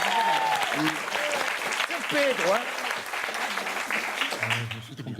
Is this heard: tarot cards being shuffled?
no